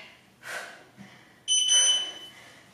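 Workout timer beep during a lower-body exercise session: a few soft tonal blips followed by a sharper, bright electronic beep lasting about half a second, heard alone against a quiet background.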